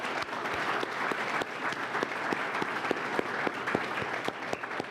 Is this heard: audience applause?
yes